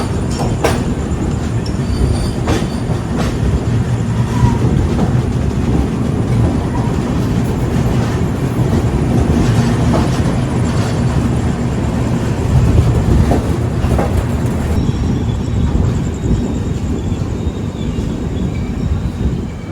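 A RoRo freight train loaded with lorries rumbles past close by, its wagons clattering steadily with a loud, continuous roar and some wheel squeal for about twenty seconds.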